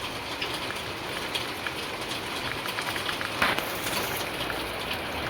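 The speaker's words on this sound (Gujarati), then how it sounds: "તમે જોઈ શકો વરસાદ કેટલી હદ વધી ગયો" Heavy rain falls steadily during a downpour on a flooded street, a dense even hiss close by with scattered drops and one brief louder splash midway, and no voices.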